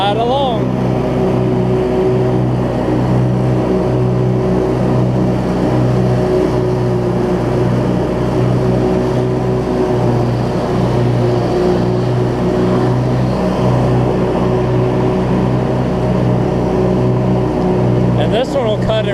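Cub Cadet zero-turn mower with a Briggs V-twin engine that runs rich and has governor trouble, driving along with a steady loud engine drone, with a person talking over it.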